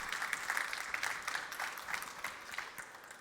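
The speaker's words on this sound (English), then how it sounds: "Yeah, it's your applause." At a 3D printing seminar held during a trade fair, an audience claps in a short, moderately faint round of applause that thins out toward the end.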